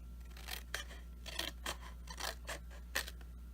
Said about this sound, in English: So we're going to cut this part down to the score line.